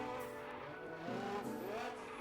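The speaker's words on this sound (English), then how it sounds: "This is like the best drifting I've ever done with any car." A G-Wagon drifts through an S-turn in the video game Fix It Up, its engine droning while tires squeal and skid in rising, wavering tones.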